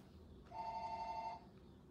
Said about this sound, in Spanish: Voy a tener que desconectar mi teléfono,